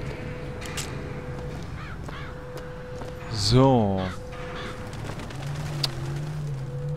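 Scripted crow caws in the Bioshock Infinite video game, heard as a short burst of loud harmonic calls in the middle, with quieter game ambience and a brief spoken word around them.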